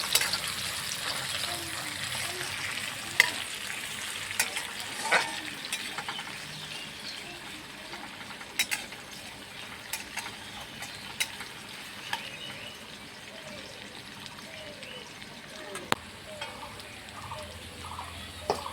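Onion frying in a pan for a red amaranth leaf dish, a soft, fairly quiet hiss with scattered light clicks and occasional spoon knocks, steady throughout.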